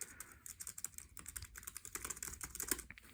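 Rapid, uneven clatter of keys on a Cherry Stream computer keyboard, a budget model, typed close up in a quiet room with steady bursts of clicks.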